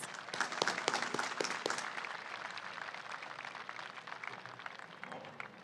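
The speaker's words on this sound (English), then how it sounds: "So let's give them a round of applause, please." Graduation audience at Hueneme High School applauding the grounds, maintenance and custodial staff: a dense, steady wash of clapping from a large crowd, sharper and louder in the first two seconds, then holding evenly to the end.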